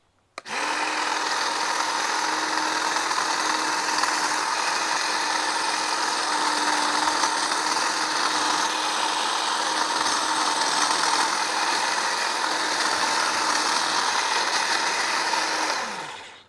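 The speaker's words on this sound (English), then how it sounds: "We've got our hedge right here, and we're gonna give it a try and trim it and see how well this works." A DeWalt 20V Max cordless 22-inch hedge trimmer (DCHT820B) runs steadily while trimming a hedge, a loud close motor whine with blade buzz that starts abruptly, holds for about sixteen seconds and stops; no talking.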